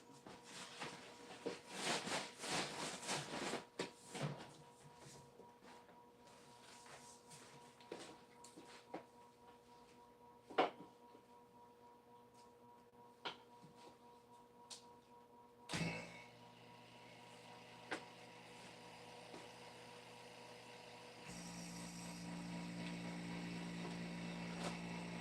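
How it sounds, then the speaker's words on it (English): Scattered mechanical clicks and clunks, then a steady low electric hum from a vacuum pump used for forging carbon fiber, growing and holding toward the end. "You can hear that humming noise. That is the vacuum pump going crazy right now."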